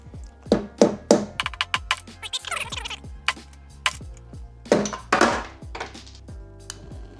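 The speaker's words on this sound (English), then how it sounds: "take a socket and a mallet and just wallop on it" A mallet strikes a socket on a seized shifter-kart engine part in a series of sharp metallic whacks, some single and some in quick clusters, close and loud.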